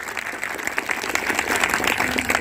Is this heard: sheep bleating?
no